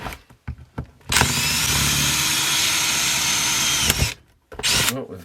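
A power drill runs loud and close for about three seconds during a repair job, stopping with a jolt, then whirring again in a shorter burst after brief knocks and handling noises.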